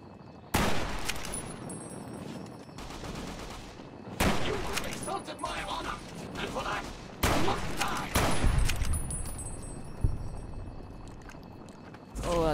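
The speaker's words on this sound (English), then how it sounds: "That's definitely a shot of some sort." Several sharp gunshot bursts ring out in Fallout: New Vegas, loud and close, arriving in clusters a few seconds apart with echoing tails, over constant game ambience.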